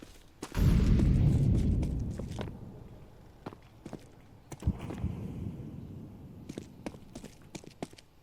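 A low, rumbling burst from an incendiary grenade in a video game, followed by scattered footsteps and light clicks, fairly close.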